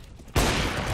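M4 rifle gunfire in a video game, a loud close burst that starts abruptly and holds as a dense, sustained roar.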